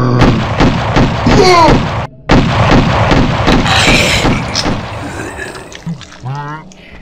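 Rapid, rhythmic gunfire in GTA San Andreas during a zombie-themed scene: a fast string of loud shots with a brief gap, then more bursts, mixed under a speaking voice.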